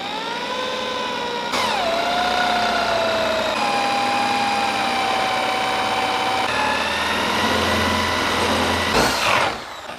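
An electric drill bores a hole into the wooden head of a carving mallet, its steady high whine holding loud and close for several seconds, shifting pitch as the bit bites and easing at the end.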